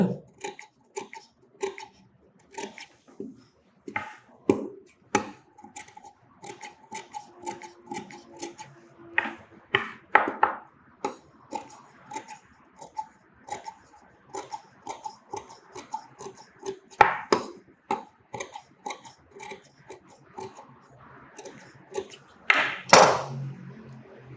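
Scissors snip through blouse fabric along a round stitched seam, a run of short crisp cuts and taps repeating close by, with a louder rustle near the end.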